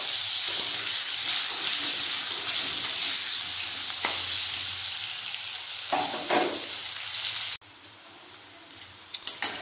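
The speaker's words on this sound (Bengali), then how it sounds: "ওই তেলে কাঁচকলাগুলো ভালোভাবে ভেজে নেব।" Raw green bananas fry in hot oil in a pan, giving a loud steady hissing sizzle with occasional scrapes of stirring, then the sizzle drops away abruptly before a few faint knocks.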